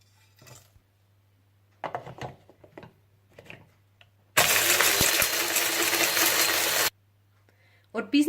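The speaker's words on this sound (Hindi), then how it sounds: "जायफल, जावित्री, सब्ज इलायची, बादियान का फूल, काली मिर्चें और सौंफ को पीस कर रख लीजिए" A spice grinder whirs loudly for about two and a half seconds, grinding nutmeg, mace, green cardamom, star anise, black pepper and fennel, after short bursts of handling clatter and low background hum.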